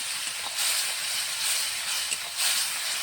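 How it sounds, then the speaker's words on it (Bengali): A ground paste of ginger, cumin, garlic and onion hisses as it fries in a pan, making a continuous, even, fairly loud sizzle up close without voices. "আমি বাটানোরাই মশলা পেস্ট করে নিয়েছি, তা ঢেলে দেবো।"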